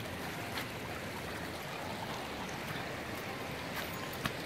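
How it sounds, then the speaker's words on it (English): Rainwater pouring down a stopped-up residential driveway during a heavy rain, a steady faint rushing and trickling wash that carries on without a break, with a few soft knocks over it. "Water just pouring down our driveway and beside it."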